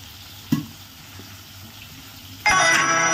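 Chopped tomato drops into hot oil in a pan and bursts into loud, close sizzling that keeps going to the end, following a quieter stretch with a single faint clink.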